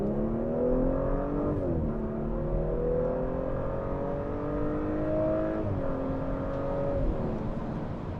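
A 2021 Audi S4 engine revs hard and steadily climbs in pitch through the gears, loud and close, with brief dips at each shift and no talking.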